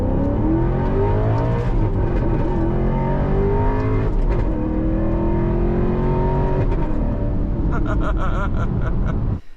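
A 2009 Alfa Romeo 8C Spider Competizione engine revs loudly and continuously up close, pitch climbing and falling through several surges, with a brief rattle near the end before cutting off.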